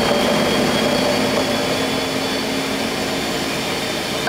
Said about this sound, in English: we're just gonna blend